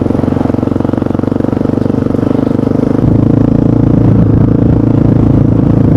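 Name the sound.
2004 Yamaha Raptor 660R quad engine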